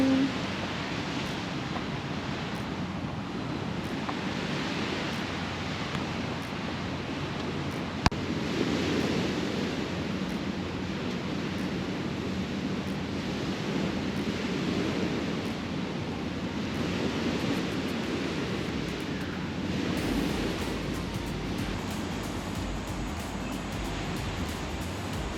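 Ocean surf at high tide washes onto a beach in a continuous, moderately distant roar with gentle swells in intensity, wind rushing across the microphone throughout.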